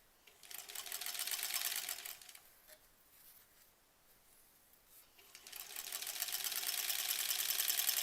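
A sewing machine stitches strips of fabric for the border of a granny squares quilt, running in two loud, steady bursts separated by a quieter pause in the middle.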